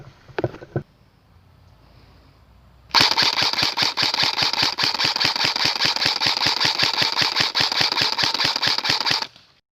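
Airsoft gun firing a long, steady burst of rapid shots during outdoor airsoft gameplay, loud and close, preceded by a couple of brief clicks and rustling.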